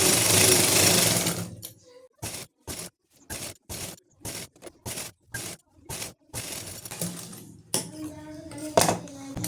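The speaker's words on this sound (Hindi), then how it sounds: "इस तरह से पूरे राउंड में हम सिलाई लगा लेंगे" A sewing machine stitches a salwar in short repeated bursts of rapid clatter broken by brief pauses, close and loud, with longer continuous runs at the start and end and no talking.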